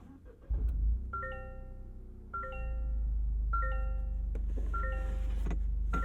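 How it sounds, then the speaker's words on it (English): A 2023 Toyota GR Corolla starts inside the cabin: a run of bright, cheerful dashboard chimes, then the engine catches with a deep, steady exhaust rumble underneath further chime sequences. "Deep bass from the exhaust on startup, and you've got the contrasting bright and perky chimes"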